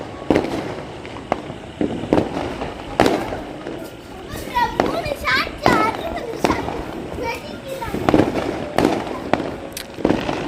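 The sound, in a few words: Diwali fireworks, a 60-shot cake bursting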